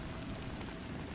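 Steady, soft rainfall hisses evenly on a surface, a faint continuous patter with no other sounds.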